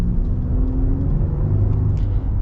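A 2025 Nissan Frontier PRO-4X's naturally aspirated V6 pulls under acceleration, heard from inside the cab as a steady, smooth low rumble with road noise and no talk.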